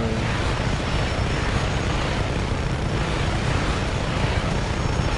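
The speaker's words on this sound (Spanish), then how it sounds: "A ver, los helicópteros estos." Helicopters flying in the video game Just Cause 3, a constant dense rotor-and-engine rumble holding steady at moderate level without pause.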